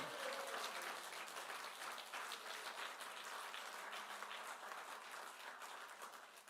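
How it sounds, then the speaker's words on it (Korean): Applause of thanks from the congregation at a Korean prayer meeting, faint, distant steady clapping from a large crowd, even and sustained. "정말 감사와 영광의 박수 올려드리면 이 밤 되면 좋겠습니다"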